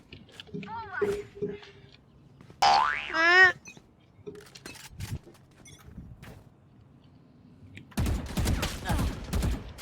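Bursts of gunfire in a shooting video game, rapid dense volleys mixed with springy game effects and sharp pops, heard between and under excited talking.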